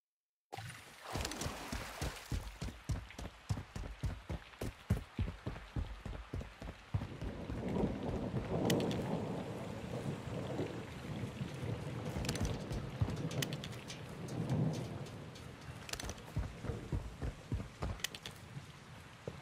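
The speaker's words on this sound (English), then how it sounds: "It's raining fucking hard." Heavy rain pours steadily in the Call of Duty Modern Warfare 2 video game, a dense continuous wash with sharp cracking bursts early on and low rumbling swells later that suggest distant thunder, with no voices.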